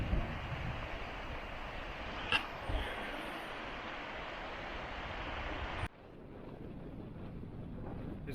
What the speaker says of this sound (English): It's probably too windy to use this